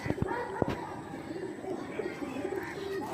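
Rampuri pigeons cooing softly in a loft, low repeated coos running steadily beneath someone talking, with a few sharp knocks near the start.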